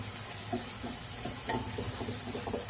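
Fenugreek leaves and chicken fry in oil with a steady close sizzle, broken by a few soft stirring knocks and a short sharp clink at the very end, no voices.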